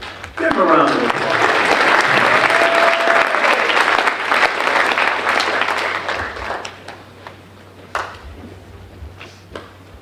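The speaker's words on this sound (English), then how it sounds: "Give them a round of applause." Audience applause fills a high school senior awards ceremony hall, starting abruptly as a dense, loud wash of clapping, then thinning and fading out with a few scattered claps toward the end.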